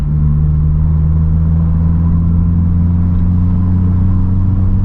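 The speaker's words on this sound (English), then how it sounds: "listen to the air filter gets so loud" Steady, loud low engine drone from a Vauxhall Corsa in third gear after a downshift, with a deep rumble and a constant hum from the air filter intake, heard from inside the car with no talking.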